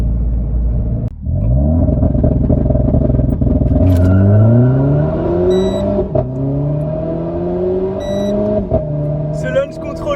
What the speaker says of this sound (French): Le launch control de la Clio 4 RS, c'est une de ses grosses forces.